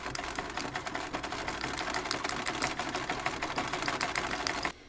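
A domestic sewing machine runs a straight stitch through fabric, giving a fast, steady rhythmic clatter at close range for several seconds before stopping abruptly.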